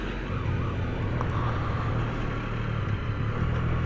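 A Can-Am Ryker three-wheeler shifting gears automatically while riding on the road, a steady engine drone with a brief wavering pitch change as the gear swaps, heard at moderate level with road noise underneath.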